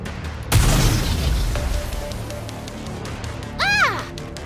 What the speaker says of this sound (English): They appear to be homemade. The explosions aren't stable.